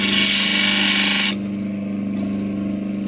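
A piece of opal is rubbed and polished on a power tool, giving a loud, steady grinding hiss that cuts off abruptly partway through, leaving a low motor hum behind.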